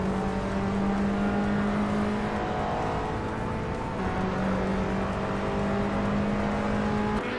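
Several race car engines drone steadily at the start of a race on the Rouen Les Essarts track in a racing video game, the pole car a 2018 BMW 125 iM Sport, a loud continuous hum with layered tones and no talk.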